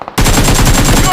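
Loud, close rapid automatic gunfire in the BGMI mobile shooter game bursts in after a brief quiet moment and continues as a dense, unbroken rattle.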